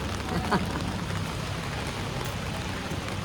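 Steady rain falls on a Surat street, a constant dense patter with a soft low rumble underneath, evenly loud throughout with no voices.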